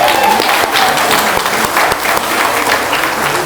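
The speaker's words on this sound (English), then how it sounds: "Let's give her a round of applause." Dense, steady applause from a large crowd at a building dedication honours a college president, loud and continuous throughout with no pause.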